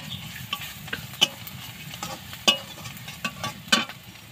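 Cooked dal with ginger frying in a pan, a steady broad sizzle broken by a handful of sharp spoon scrapes and clinks spaced about a second apart, close and moderately loud with no voices.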